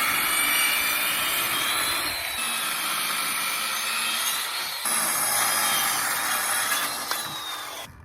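A power saw cuts through wood at a 45-degree bevel, a loud, continuous whining buzz close to the microphone, with slight shifts in pitch as the blade moves through the board and no talking.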